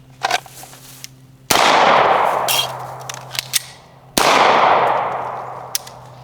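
Two sharp, loud gunshots from a Beretta 92X pistol fired in double action, each with a long ringing decay, plus a few faint clicks and clanks between them. No one speaks.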